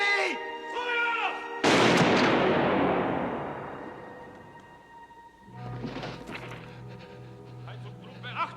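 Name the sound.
firing squad rifle volley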